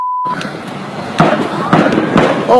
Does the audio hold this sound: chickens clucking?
no